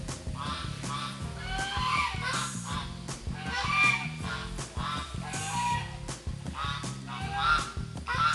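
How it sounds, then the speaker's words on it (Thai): A flock of geese honks repeatedly nearby, loud overlapping calls in an uneven, noisy chorus. "เสียงห่าน เสียงตัวอะไร ส่งเสียงร้องกันระงม"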